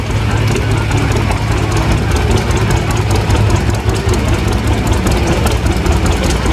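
John Deere 3010 tractor engine running at a steam and gas engine show, a loud steady low throbbing idle with a rough knocking pulse, close and continuous.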